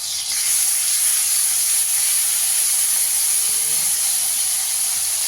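Garlic, ginger and onion dropped into hot white oil in a pan, giving a loud, steady sizzling hiss that starts abruptly and continues evenly throughout.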